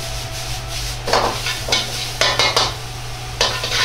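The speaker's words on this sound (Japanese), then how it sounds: "ここからまた強火にして焦げないように手早く炒めていきます。" Onions browned with baking soda are stir-fried quickly over high heat, with a steady sizzle broken by several scraping strokes of a spatula against the pan, close up and with no voices.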